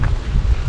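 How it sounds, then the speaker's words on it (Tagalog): Strong wind at sea buffets the microphone in a heavy, continuous low roar, loud and close throughout. "grabe na pong hangin"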